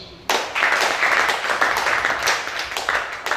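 Audience applause at a church service, a dense burst of many hands clapping that starts abruptly and holds steady and loud throughout.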